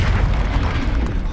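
Confringo explosion spell in the video game Hogwarts Legacy, a loud, dense booming blast with a rumbling low end, heard close and alone.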